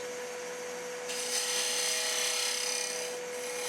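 A multi-tool cuts wood on a lathe while turning a finial, giving a steady close grinding rasp over the lathe's constant whine that grows louder midway and holds.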